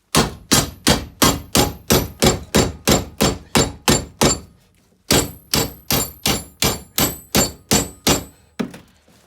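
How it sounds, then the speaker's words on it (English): Hammer blows driving a spring part into place on an MGB GT during restoration, a rapid series of about twenty evenly spaced sharp metallic thunks, close and loud, with one brief pause midway. "we give it a wallop to get it going in straight"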